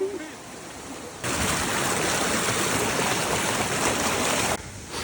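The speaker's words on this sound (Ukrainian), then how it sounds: "Ми йдемо на звук води просто вже" A mountain stream rushes in a steady broadband wash that swells suddenly louder, holds, then drops back, heard up close.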